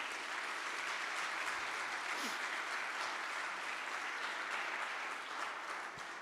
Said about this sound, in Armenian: եկեք ծափարենք մեր Աստծուն